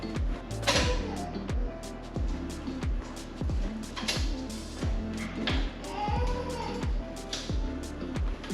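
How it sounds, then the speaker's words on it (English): A screwdriver drives screws into the bottom of a Frigidaire oven door, making a steady run of creaking, ratcheting turns that repeat roughly every half second, close and fairly quiet, with no voices. "Now we're going to add the screws at the bottom."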